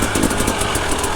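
Hard enduro dirt bike engine running steadily, a loud close buzzing drone with slight pulsing and no pauses.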